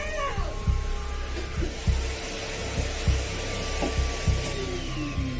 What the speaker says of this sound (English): Martina is casually vacuuming the hallway carpet